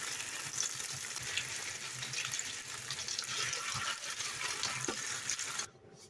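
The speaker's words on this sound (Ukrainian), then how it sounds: "І так ми будемо пересмажувати оцей весь фарш" Minced meat fries in a pan with a continuous, dense sizzle and crackle close by, broken by a few stirring knocks, before cutting off abruptly near the end.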